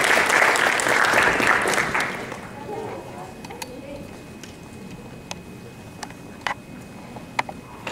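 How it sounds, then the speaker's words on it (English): An audience at a conference opening session applauds the panelists, with full, dense clapping for about two seconds that quickly fades into scattered, isolated claps in a quiet room. "please give a round of applause to the panelists as we get started"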